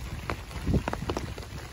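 Rain patters on an umbrella during a wet Appalachian Trail hike, a dense close drumming with a few louder drops standing out, heard alone.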